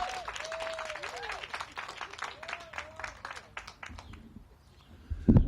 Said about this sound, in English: please welcome with a roaring round of applause, Councilmember Curren Price.